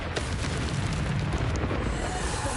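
A Bombarda spell explosion in Hogwarts Legacy, a loud, close, rumbling boom that stays dense and roaring for the whole short stretch before easing slightly.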